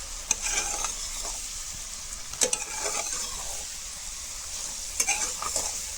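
Radish sweet being stirred in drying sugar syrup in a pan, a steady close sizzle with a few sharp scraping strokes of the spoon spread across the few seconds, no voices.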